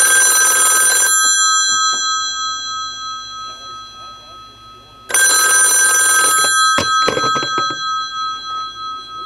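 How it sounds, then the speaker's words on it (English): An ITT-made clone of the Western Electric 500 telephone sounds its gong bell in two loud, bright metallic ringing bursts separated by a pause, with quieter clicks and a faint voice between them. "But the bell gong ringer in this thing sounds incredibly good."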